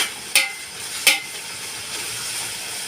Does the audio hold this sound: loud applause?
no